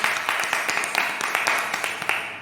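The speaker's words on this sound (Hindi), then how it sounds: "परमेश्वर के जोरदार तालियों से स्वागत करते हैं।" A small group claps steadily at a church prayer service, a thin patter of hand claps with a slight uneven rhythm, moderately close.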